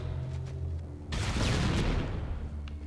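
Gunfire in the video game Halo Combat Evolved: a dense burst of shots and blasts swells after a low ambient hum, loud and sustained for the rest of the moment, with no talking.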